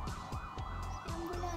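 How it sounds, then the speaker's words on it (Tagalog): An ambulance siren wailing in rapid repeating sweeps, heard somewhat distant under steady background hum. "Ambulansya."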